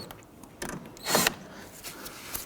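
A ratchet wrench loosens the 13mm strut top nuts on a 2011-2023 Dodge Charger, giving short clicking bursts and one louder mechanical crunch up close.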